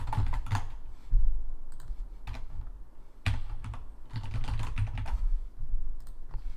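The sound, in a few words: typing on computer keyboard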